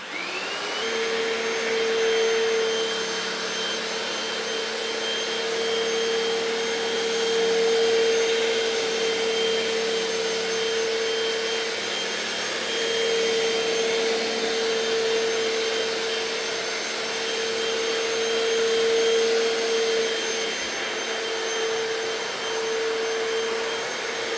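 A Hoover PowerDash hard floor cleaner runs continuously with a steady, loud motor whine and airy suction hum, level and unbroken for the whole stretch, with no voices.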